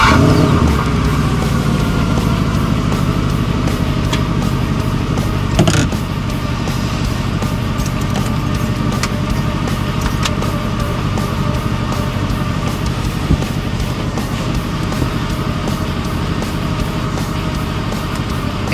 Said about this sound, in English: If you want, you can start the engine